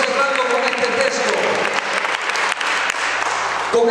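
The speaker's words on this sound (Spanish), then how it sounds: "Dale fuerte ese aplauso a Jesús" Congregation applauding loudly during a church service, a dense, vigorous burst of clapping from a packed room with some voices mixed in, close and full throughout.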